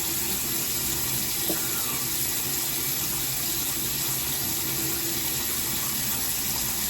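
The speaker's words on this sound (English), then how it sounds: "I'm just gonna take a little bit of water and then just like wet my hands and emulsify this." Tap water runs steadily into a sink while hands are wetted during a nighttime skincare routine, a continuous close hiss and gush with no talk.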